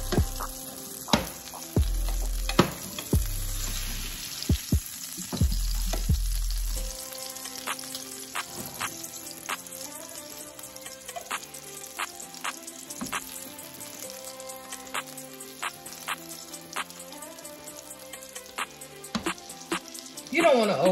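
A cod fillet spits and crackles as it pan-fries in hot olive oil, with irregular sharp pops over a quieter sizzle and faint tonal music in the background.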